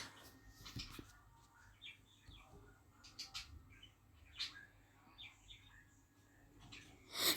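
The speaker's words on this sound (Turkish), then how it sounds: "İki tane kuş gelmiş yan yana." Small birds chirp outdoors in a quiet setting, short faint tweets scattered across several seconds with soft background noise.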